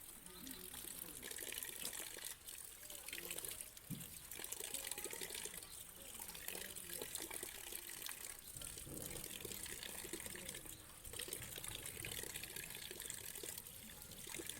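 Okra pods are washed in rainwater while rain falls, with a steady, close wash of splashing and trickling water running through the whole stretch.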